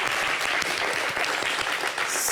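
An audience at a live show claps loudly and densely in a short, continuous burst of applause.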